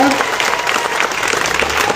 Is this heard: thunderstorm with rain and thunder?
no